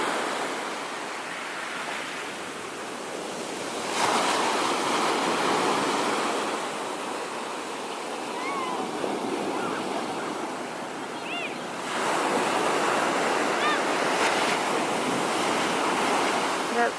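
Ocean waves breaking on a long beach at Porto, a continuous broad wash of surf that swells louder in two surges, with some wind noise.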